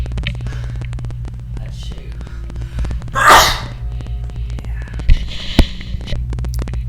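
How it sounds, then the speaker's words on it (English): A single sharp sneeze, loud and close, cutting through a steady electrical hum with faint clicks around it. "I had to sneeze."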